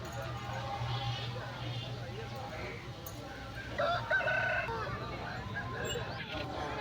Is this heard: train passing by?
no